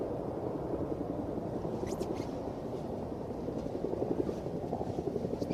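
Deep, steady engine roar from the Stratolaunch carrier aircraft during a Talon-A captive carry test flight, heard as a continuous low rumble that pulses slightly throughout, loud and unbroken with no talk.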